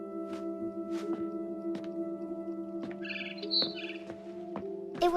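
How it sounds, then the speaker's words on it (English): Quick high chirps from a barn swallow returning to its nest in the video game What Remains of Edith Finch, clustered midway through and sitting over a low droning music bed with soft rhythmic taps. "It was a barn swallow going back to her nest."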